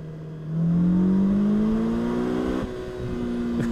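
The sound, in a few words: 2021 Polaris Slingshot R accelerating hard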